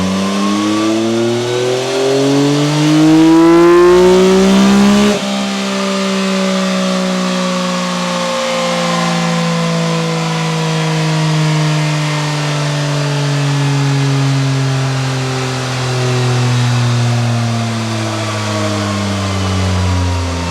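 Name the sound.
motorcycle revving on dynamometer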